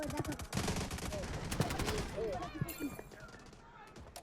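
Gunfire in a shooting video game crackles in rapid bursts and single shots, fairly close, mixed with voices talking over the action.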